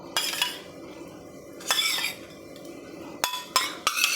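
A spoon scrapes and clinks against a bowl as sour yogurt is added to a kilo of raw chicken for marinating, several short metallic strikes and scrapes separated by quiet gaps.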